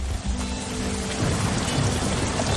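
Rain sound effect in a BBC Radio Devon football-coverage jingle: a steady, loud hiss of falling rain with low rumbling underneath, continuous throughout.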